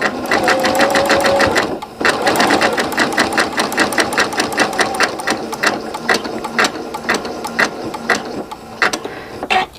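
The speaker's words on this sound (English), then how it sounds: "I'm going to start in the center, same stitch that I showed you before, and we're going to stitch out towards the end" A sewing machine stitches over wrapped cord for a rope bowl, its needle hammering in a fast, steady mechanical rhythm close up. There is a brief pause near the start, then continuous loud stitching.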